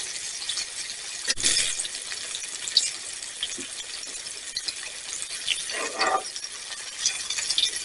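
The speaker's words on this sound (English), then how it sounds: "Whenever you're frying stuff, do not leave it." Continuous crackling sizzle of pork frying in a pan, with scattered pops and a couple of brief scraping or clinking sounds, fairly close.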